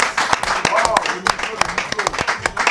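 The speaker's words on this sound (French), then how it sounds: "Je demande l'applaudissement très très fort s'il vous plaît." An audience applauding in a restaurant during a press conference in Paris, with short uneven bursts of separate, sharp claps and talk in between.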